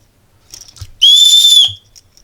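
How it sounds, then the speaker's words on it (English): A single short, shrill whistle blast, loud and close, preceded by a few faint clicks. "A whistle."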